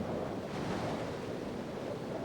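Surging waves and wind from a hurricane storm surge on the shore form a dense, steady rushing roar, faint and continuous with no voices.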